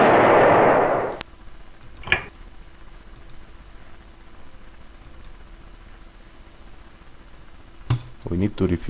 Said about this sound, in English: And now for this artillery too.